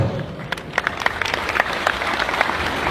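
A crowd applauds in a dense burst of clapping, steady and energetic throughout, with no voices standing out.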